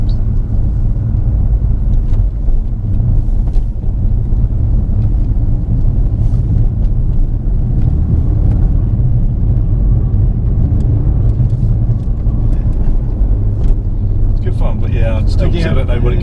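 A Ford Focus RS MK2 laps a track, its engine a constant low rumble with wind buffeting, while people talk over the steady drive throughout.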